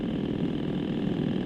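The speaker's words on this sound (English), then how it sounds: "if I slack off speed a bit and I'm in top gear and I whop that throttle open all the way" Motorcycle engine with a Mikuni carburettor at wide-open throttle in top gear, a loud steady humming drone without talk over the short stretch.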